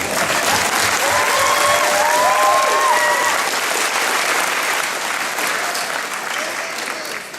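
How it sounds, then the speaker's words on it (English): Loud, sustained applause from a graduation crowd during a valedictorian speech, a thick wash of clapping with faint cheering voices above it, gradually easing toward the end. "let's give a round of applause."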